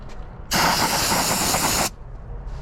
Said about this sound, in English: so I'm gonna grab brake cleaner